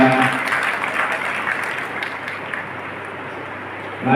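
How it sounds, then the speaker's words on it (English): A graduation ceremony audience at DPS applauds in a broad, continuous wash of clapping that stays fairly even and gradually thins toward the end. "Please give a big round of applause to respected Satyavama."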